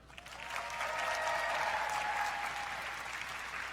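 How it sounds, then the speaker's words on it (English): Steady applause from the audience at the 2018 Miss Teen USA pageant, a broad wash of clapping swelling in and holding level throughout, with a faint tonal background underneath. "let's give a round of applause for the president of the Miss Universe organization, Paula Shugart."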